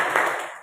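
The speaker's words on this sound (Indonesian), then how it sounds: "Kita tepuk tangan dulu." A small counselling group claps hands together in a classroom, a short, fairly steady burst of clapping with no talk over it.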